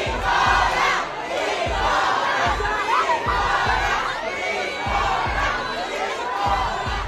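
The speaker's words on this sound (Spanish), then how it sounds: "las fans de Wendy le gritaban Nicola en su cara" A large crowd of fans at a live show shouts and chants the name Nicola in loud, rhythmic unison, with dense cheering and voices throughout.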